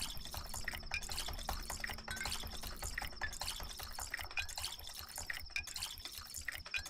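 Water filling bottles in Pathologic 2 runs and gurgles steadily, with repeated rising-pitch fills as each bottle tops up, drips and splashes layered throughout at close range.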